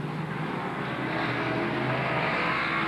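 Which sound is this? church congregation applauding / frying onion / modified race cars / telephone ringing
modified race cars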